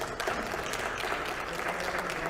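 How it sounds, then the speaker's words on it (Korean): Members at a Korean party caucus meeting applaud to approve a deputy, a fairly soft, even wash of many hands clapping with no pauses. "그래서 주광덕 의원을 원내 부대표단에 여러분들이 추인해 주시면 박수로 부대표단에 편입하겠습니다."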